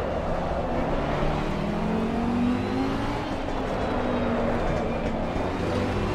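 Lamborghini GT race car engine in Assetto Corsa Competizione during a Blancpain GT race, a steady loud drone with rising and falling revs and gear changes, continuous throughout with no talk.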